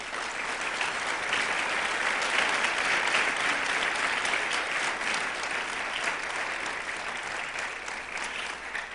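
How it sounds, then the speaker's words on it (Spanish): A church congregation applauds steadily for about nine seconds, a dense and even wash of many hands clapping at close range with no voices over it. "Vamos a darle un aplauso al Señor."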